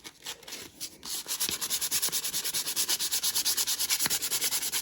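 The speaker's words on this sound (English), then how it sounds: "Let's just shine this up with some 150 grit sandpaper." A rusty metal shaft from a rock tumbler is rubbed with 150 grit sandpaper in quick, steady back-and-forth strokes, close and continuous after a few scattered scrapes at the start.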